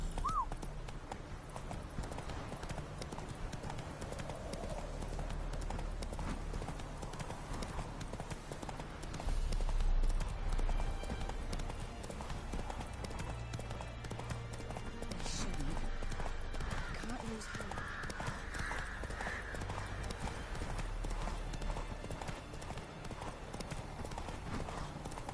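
Horse hooves clip-clop at a fast, rhythmic gallop in the video game The Witcher 3: Wild Hunt, steady and close, with occasional whinnies and game voices speaking over the hoofbeats.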